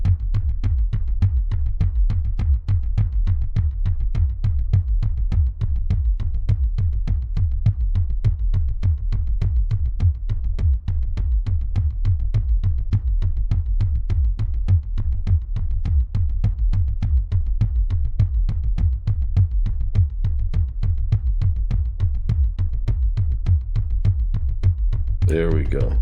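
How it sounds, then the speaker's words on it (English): Synthesized shamanic bass drum patched in VCV Rack, struck in a steady fast pulse of deep, booming hits with softened, less bright attacks, continuing evenly throughout with no gaps, then a brief brighter swell at the very end. "Make the hits on the surface of the drums sound a little bit less bright."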